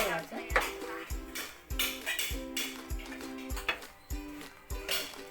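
A spoon stirring a jaggery and sesame mixture in a metal pan for chikki, with regular clinks and scrapes that ring sharply against the pan at a steady pace.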